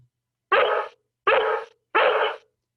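A dog gives three loud, evenly spaced barks, each short and sharp, close by against silence.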